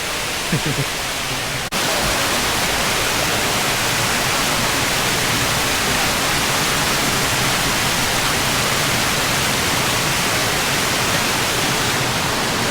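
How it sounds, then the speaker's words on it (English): A waterfall on a hiking trail roars as a dense, steady rush close by, starting abruptly after a brief moment of quieter sound and holding an even, loud wash to the end. "Bonus waterfall."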